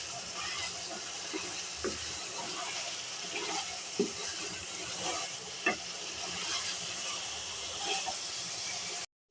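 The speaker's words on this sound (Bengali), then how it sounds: "দিয়ে এখন আমি মাংসটা ভালো করে কষিয়ে নেব।" Beef with dry chili powder sizzles in a pan for tehari, a steady hiss of frying punctuated by a few sharp clinks and scrapes of stirring, with speech nearby.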